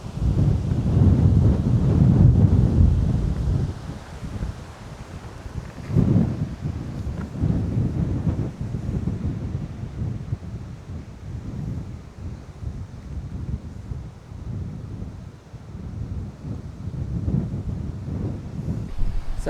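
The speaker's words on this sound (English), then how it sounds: "That's what all the wind is." Strong wind buffets the microphone outdoors at a ruined lost-city site, heavy low rumbling gusts that swell and fade over about twenty seconds, with no voices.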